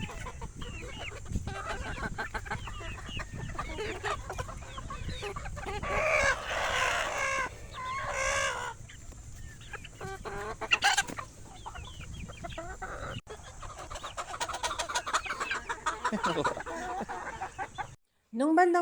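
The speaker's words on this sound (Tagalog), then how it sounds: "naghabulan sa kanya ang mga cockerels" Cockerels at a game farm cluck and crow close by, with repeated crowing calls standing out over a busy backdrop of clucking fowl, while people talk intermittently throughout.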